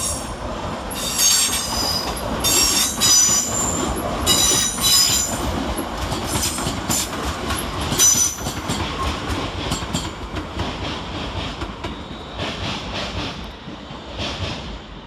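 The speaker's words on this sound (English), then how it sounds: "Departed over on the far side is 350-111, working the 1518 London Northwestern Railway service to St Albans Abbey." A London Northwestern Railway Class 350 electric multiple unit departs London Euston on the far side, its wheels squealing and rumbling steadily over the rails with bright metallic screeches and clickety-clack throughout, loud and continuous with no voices.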